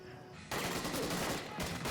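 Gunfire from the TV show The Boys: a sudden loud burst of rapid shots and fusillade, dense and continuous for over a second, cutting in after a quiet moment, with a dip before more firing.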